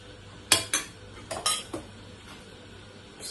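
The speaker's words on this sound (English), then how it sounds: "Just gonna share out some beans here" Metal cutlery clinks against a plate as baked beans are served in a handful of quick scrapes and taps, close by, over a quiet room.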